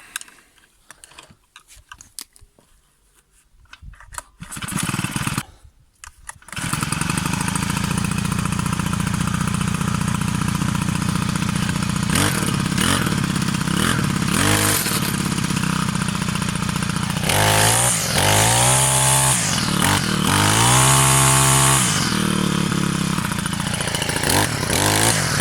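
A Honda UMK425E four-stroke string trimmer engine with starting trouble coughs through a few pull attempts, then catches and runs on loudly and steadily, its pitch rising and falling as it is revved.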